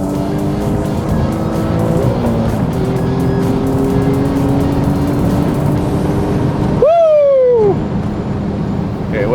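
A remapped Alfa Romeo Giulia Quadrifoglio accelerates hard to 200 km/h on an airport runway, its engine roaring close and loud through rising gears, with a sharp shift and a pitch drop near the end.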